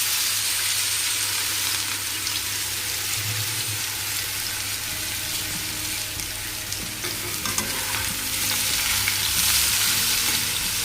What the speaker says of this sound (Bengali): নুন হলুদ মাখিয়ে নিলাম, এবার ভাজবো এটা